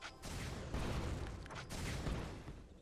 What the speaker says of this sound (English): get into position to land two more shots from Missile Barrage